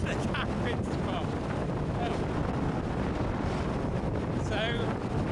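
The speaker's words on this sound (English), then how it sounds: "If you can hear me, it's a bit windy." Strong wind in the Brecon Beacons roars steadily across the microphone, a constant buffeting rush with no breaks.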